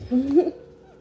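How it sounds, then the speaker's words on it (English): A house cat meows once in the background, a short rising-then-falling cry that lasts under half a second and fades into quiet. "Don't mind my cat in the background."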